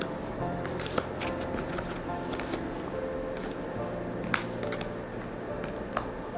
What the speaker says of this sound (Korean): 2번님들 카드 뽑도록 하겠습니다